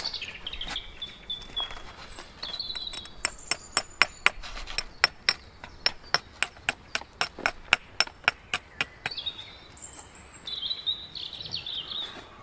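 Flint stone struck repeatedly while knapping an axe outdoors: a long run of sharp, bright clicks and taps in quick irregular rhythm, near and fairly loud, with birdsong chirping in the background.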